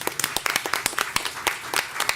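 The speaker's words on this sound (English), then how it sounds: "let's give a round of applause to all of our wonderful moderators and panelists" A small symposium audience gives a short burst of clapping for its moderators and panelists at a mental health event in a DeKalb County probate court setting; the claps are scattered and moderately loud.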